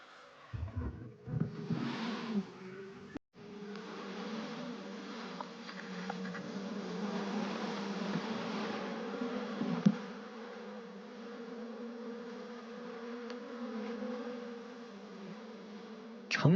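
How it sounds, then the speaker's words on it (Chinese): Wild honey bees swarm and hum steadily around a wooden hive box, a dense continuous drone that holds close and fairly loud for the whole stretch, with a brief dip partway through. "蜂王将会安抚蜂群，并带领他们在此安家"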